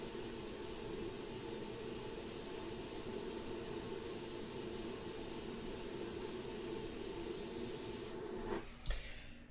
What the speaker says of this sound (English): So this is just regular water, and I'm just going to spray that out.